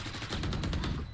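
Rapid automatic gunfire from the tactical shooter Valorant during a competitive tournament match, a loud, dense burst of shots rattling for about a second with no voices over it.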